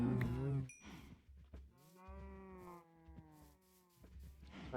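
Sheep in Minecraft bleating in a run of drawn-out, wavering calls, fairly close and clear, with a few short low thumps beneath and no talking.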